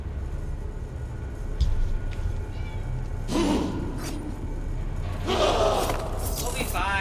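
In-game cats in the survival game Dune give two fairly loud, raspy meowing bursts a couple of seconds apart, over a constant low rumble of game ambience.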